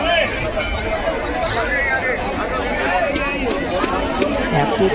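A dense crowd of pilgrims and foreign tourists fills the Varanasi ghats near Dashashwamedh and Kashi Vishwanath with constant, loud chatter and many overlapping voices that never let up.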